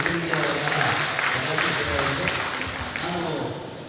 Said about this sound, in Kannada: ಒಂದು ಜೋರಾದ ಚಪ್ಪಾಳೆ ನಿಮ್ಮ ಬೆಳವಣಿಗೆ